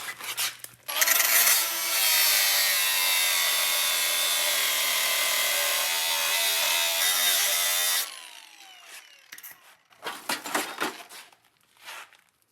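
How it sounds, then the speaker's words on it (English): A power tool cuts through a rusty bolt on a VW Beetle chassis with the body removed, a loud, sustained high-pitched grinding screech for about seven seconds, then fading into scattered clanks and short rattles. "Cut that off, cut that bolt off right there."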